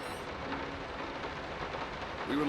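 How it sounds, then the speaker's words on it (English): Heavy rain with thunder in the horror game Layers of Fear, a dense steady wash of downpour that fills the whole clip at even loudness, swelling slightly louder near the end, with no speech over it. "I can't even hear that. The rain's too loud."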